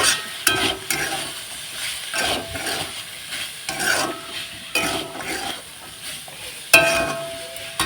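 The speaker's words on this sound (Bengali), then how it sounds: "এখন কিন্তু ভালোভাবে নাড়াচাড়া করে নেব" Spices with a little cumin powder are stirred in a pan, a spoon scraping in steady strokes with soft sizzling underneath and occasional clinks against the metal, close and moderately loud.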